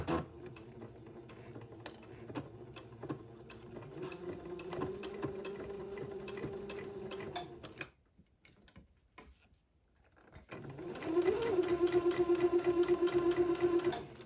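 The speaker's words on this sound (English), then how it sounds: "I'm going to sew this entredo to one side of the leg opening" Sewing machine stitching diaper fabric, a rapid mechanical clatter of needle strokes that runs steadily, pauses in near silence, then resumes louder with a sustained whirring hum.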